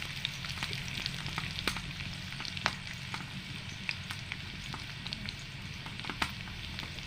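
Curry leaves sizzle in hot oil for a vegetable dish of breadfruit, a steady close crackle broken by sharp pops and a few stirring clicks, with no talking.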